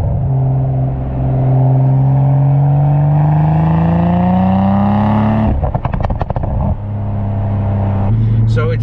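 Aftermarket catless exhaust on a Toyota Supra GR, revving up in a long rising pull, then a sharp crackling burble on lift-off and a steady idle drone, loud and close.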